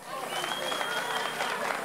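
Applause from an audience at a staged show rises quickly and holds steady as a dense, bright wash of clapping, with a faint voice mixed in.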